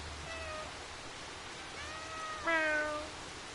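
A cat meows in the video game Stray, a few short, soft mews followed by a louder, rising meow near the end over a quiet background hum.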